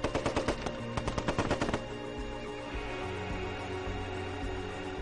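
Gunfire rings out during the military assault on the Chilean presidential palace, with a fast burst of loud machine-gun shots followed by echoing reverberation and distant rumbling.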